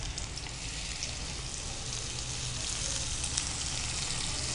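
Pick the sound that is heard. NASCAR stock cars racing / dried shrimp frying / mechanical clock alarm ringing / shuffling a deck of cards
dried shrimp frying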